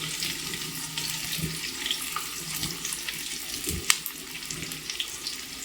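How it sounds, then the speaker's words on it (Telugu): Roughly chopped onions fry in a pan for Nellore fish curry, a hissing sizzle broken by a few clunks of stirring and utensil knocks, fairly quiet and close with no voices. "ఇలా కొంచెం పెద్దగా కట్ చేసుకున్న ఉల్లిపాయ ముక్కల్ని యాడ్ చేసుకోవాలి"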